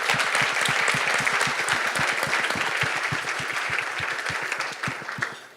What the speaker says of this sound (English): can we just have a quick round of applause for everybody who's here?